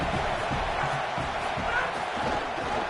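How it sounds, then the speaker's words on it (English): A college football stadium crowd roars continuously during an Oklahoma versus Oklahoma State game, a dense wash of cheering with a commentator talking over it. "This crowd knows when to bring it."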